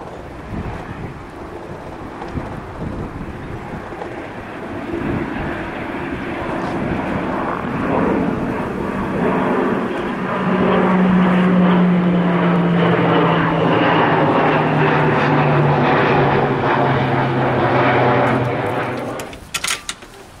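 A propeller airplane passes over a small airfield with runway 12: an engine drone swells from faint to loud, holds a sustained droning tone as it goes by overhead, then cuts off abruptly at the end.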